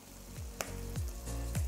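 Food sizzles and crackles on a Zaigle electric grill with a soft, steady frying hiss, heard up close and fairly quiet, with a few faint clinks of utensils in between.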